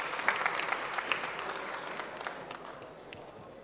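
An audience at a PlastIndia 2023 promotional event in a Kolkata hotel hall applauds to welcome a speaker to the podium, a soft, dense patter of many hands that holds steady and slowly fades.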